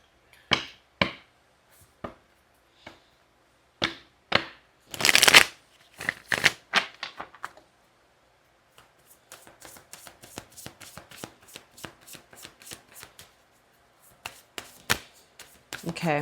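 Tarot cards shuffled by hand in quick riffling bursts, close and crisp, with short pauses between rounds and a longer run of soft flicking in the middle.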